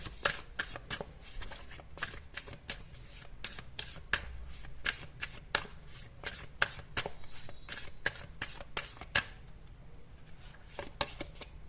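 Tarot cards being shuffled by hand, a steady run of sharp papery riffles and slaps repeating close up, with no talking.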